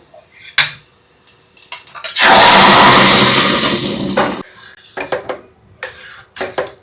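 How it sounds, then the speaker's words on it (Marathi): Metal clinks and scrapes, then a loud two-second rush and rattle as taro leaves tip into a pressure cooker, followed by more scattered clatter and stirring. "त्यानंतर आपण यामध्ये भाजी टाकून घेऊया"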